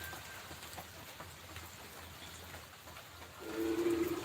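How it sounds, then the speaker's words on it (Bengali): Steady rain patters and hisses across a surface, fairly soft and continuous, with a brief tonal sound rising near the end. "আমাদের এখানে অনেক বৃষ্টি হচ্ছে"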